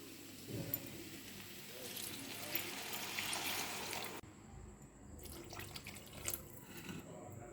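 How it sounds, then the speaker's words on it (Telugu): Water is poured into a pot for vermicelli pulao, a close, splashy stream that cuts off partway and is followed by quieter drips and clinks. "ఇప్పుడు ఒక గ్లాసు సేమియాకి ఒకటిన్నర గ్లాసు నీళ్లు పోసుకోవాలి"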